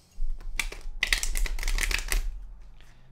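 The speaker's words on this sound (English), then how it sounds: "that wasn't a very good shuffle." A deck of playing cards is given a bridge shuffle: a quick burst of fluttering, riffling clicks lasting under two seconds, close and crisp, with a soft low hum beneath.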